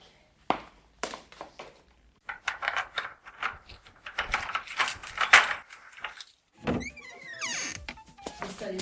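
Keys jangle and clink near at hand in irregular bursts, followed by a thunk and a door opening with a creak into a therapist's office, all close and fairly quiet with no talking.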